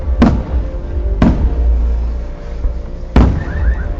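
Fireworks bursting at Mall of Asia, three loud, booming explosions spaced unevenly over a few seconds, each with a sharp crack and a rumbling decay, the last followed by faint whistling.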